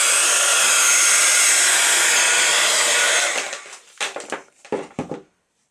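A hair dryer blowing close and loud on a paper Christmas tag for about three seconds, then cutting off and winding down with a few short rustling bumps and handling noises.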